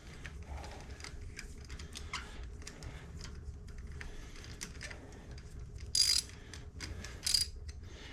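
Ratchet and extension loosening a spark plug on a Harley-Davidson M8 Softail Low Rider ST motorcycle, heard as faint scattered mechanical clicks and ticks, with two brief louder metallic bursts near the end.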